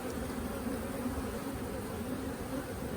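Honey bees buzzing around a hive a week after a cutout, a dense continuous hum of many wings close by, steady and even throughout with no talk.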